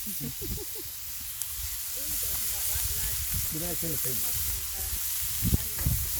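Burger patties sizzle in a hot pan with a steady, moderate hiss, while voices talk over the frying throughout.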